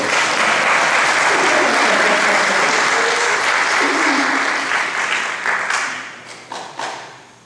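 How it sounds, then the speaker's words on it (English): A church concert audience breaks into loud, dense applause that holds steady, then tapers off into scattered claps and fades out near the end. "Please clap for me."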